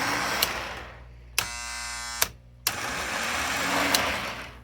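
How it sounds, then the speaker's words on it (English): Lionel 45 U.S. Marine model train engine runs along its track with a steady electric motor hum, broken by a few sharp clicks and switching clacks, close and fairly quiet, with no talking. "I have the Marine Corps engine that's on the track now."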